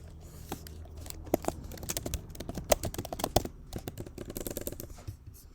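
Python code being typed on a computer keyboard: a steady run of quick, close clicking keystrokes with irregular rhythm and occasional louder taps, no voices.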